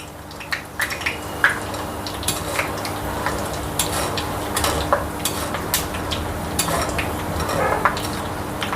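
Peanuts frying in a pan for crispy karela chutney, a steady sizzle broken by frequent small clicks and rattles as they are stirred.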